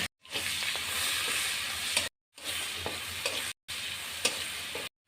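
Prawns fry in hot mustard oil in a wok, giving a loud, continuous sizzling hiss in three bursts separated by short silent breaks.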